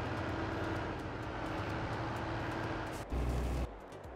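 A train rumbles past in the video game Farming Simulator 22 on the Iowa Plains View map, a steady heavy drone with a short louder low surge near the end and no talk.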